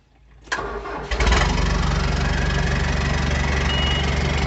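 A John Deere 5095M tractor engine, fitted with a straight pipe, is cranked over and catches, then settles into a loud, steady diesel idle close by.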